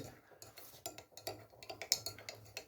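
Quiet clinks and scrapes of a spoon against a pot or bowl, irregular and close, as thick pepper paste and tomato paste are stirred together.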